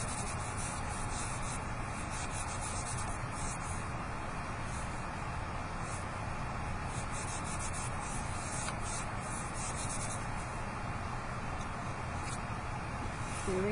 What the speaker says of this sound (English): Rub it hard.